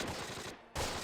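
Gunfire from the World War II tactics game Close Combat, a rapid rattling burst of automatic fire that cuts out briefly and then resumes, fairly faint and distant.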